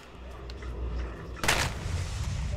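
A single loud pistol shot in a video game cracks out sharply, followed by ringing game ambience and low rumble, with no other shots.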